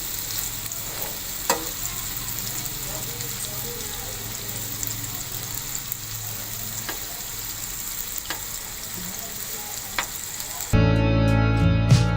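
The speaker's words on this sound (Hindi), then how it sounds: "हल्की आंच पे इसको आप फ्राई करेंगे" Chicken seekh kababs fry gently on a low flame, giving a soft, steady sizzle with a few sharp pops scattered through it, heard close and without speech before a louder, rushing burst of different noise cuts in near the end.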